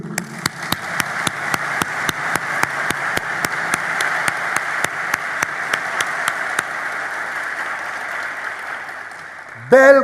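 An audience at a graduation ceremony claps at length, with sharp rhythmic beats running through the applause, before a voice cuts in briefly at the very end.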